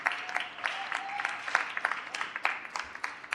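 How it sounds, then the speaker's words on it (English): Light, scattered applause at a city Board of Aldermen meeting, individual claps fairly distinct and moderately faint, sustained through the moment without any talk over it. "We could give them a round of applause too."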